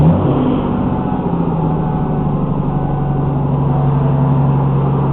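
A Kia Sorento engine, just fitted with new spark plugs, runs loud and close in a continuous drone with a steady low hum and rough rumble, holding nearly constant throughout.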